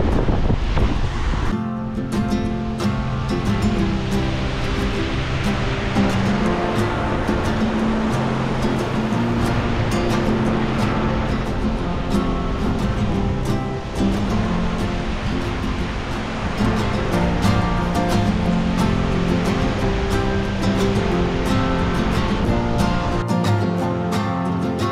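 Steady, loud surf from ocean waves breaking on a wild, empty beach in New Zealand's Far North, with wind buffeting the microphone throughout.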